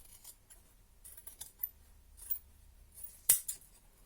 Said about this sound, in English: I'm going to just cut out the design from the calico